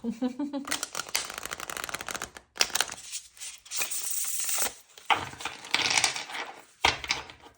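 Tarot cards being shuffled by hand, repeated crisp riffling bursts with brief pauses between them, close and clear, while someone talks over them.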